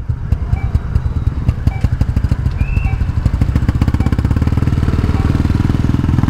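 A Yamaha NVX scooter engine with an auto idling system fault runs near the microphone, putting out a rapid, steady mechanical putter that grows louder and more even as it settles into idle.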